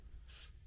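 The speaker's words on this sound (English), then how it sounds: "I go in with this Ebin hairspray" Ebin hairspray gives a single short, close spray burst of bright hiss lasting about a quarter second, heard on its own in a quiet room during an eyebrow-grooming routine.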